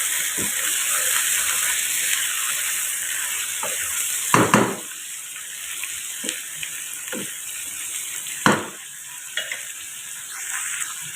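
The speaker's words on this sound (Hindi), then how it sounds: "इसमें हमने चिकन शामिल कर देना है और चिकन को करेंगे हम फ्राई" Chicken fries with browned onions in a pot, a steady bright sizzle and hiss broken by several sharp stirring scrapes and clanks of a spoon against the metal, no talking.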